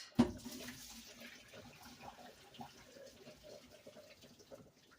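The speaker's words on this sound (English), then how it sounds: "So let's throw this water out." Boiling water poured out of a pot after boiling fish for traditional Taino cooking, a brief splash at the start followed by a faint, uneven trickle and drip into a sink.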